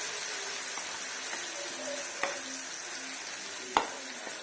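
A spice paste for stuffed brinjal curry sizzles steadily in a pan, a constant close hiss broken by a few sharp clinks of a spoon stirring against the metal, with no voices.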